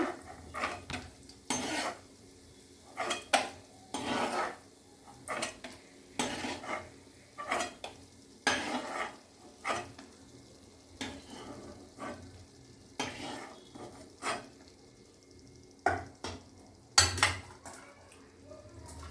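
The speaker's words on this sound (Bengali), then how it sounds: "বাদামটা ভাজা হয়ে গেছে, এবার আমি এটা তুলে নিলাম কড়া থেকে" Fried peanuts are scooped and scraped out of a metal kadai, giving a steady run of soft clinking and scraping strokes, close and fairly quiet, with no talking.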